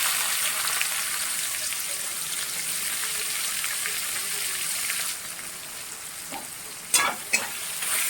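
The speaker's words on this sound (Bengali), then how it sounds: "তারপরে এই তেলের উপরে দিয়ে দেব পেঁয়াজ কুচি" Chopped onion sizzles steadily in hot oil with whole cumin and bay leaf for a Bengali chital fish curry, a constant frying hiss with a few sharp crackles and stirring clinks near the end.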